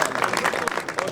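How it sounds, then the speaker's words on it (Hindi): Brief applause from an audience at an evening recital gathering, dense clapping that rises and falls under a voice. "आप सबकी तालियों में शब्बीर हुसैन भट्ट साहब।"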